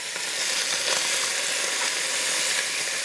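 Chicken pieces brown in a pan with marinated vegetables for Dominican stewed chicken, making a loud, continuous frying sizzle with crackling hiss throughout and no voices.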